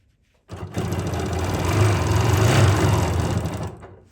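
A sewing machine stitches fabric in one continuous fast whirring burst of about three seconds, loud and close, starting abruptly and fading off at the end.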